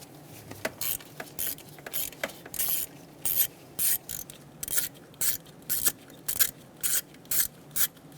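Ratchet wrench with a 5.5mm socket backing out the two ignition control module screws on a 1988-1999 GMC K1500 5.7L V8, a steady run of crisp, close clicking bursts in quick rhythm.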